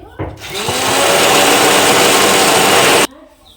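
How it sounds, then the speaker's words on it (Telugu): An electric mixer grinder whirs loudly for about three seconds, grinding a chutney of ingredients with salt and a little water for hotel-style dosa. The motor starts and cuts off abruptly, with quieter kitchen sounds before and after. "ఇవన్నీ చట్నీ అయితే ఇలా మెత్తగా అయితే మిక్సీ పట్టుకోవాలి"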